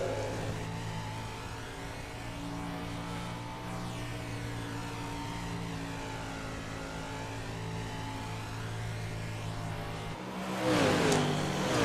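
Several 305 sprint car engines race in a simulated iRacing event, a steady layered harmonic drone of high-revving motors droning continuously, swelling louder and rougher near the end as cars pass close.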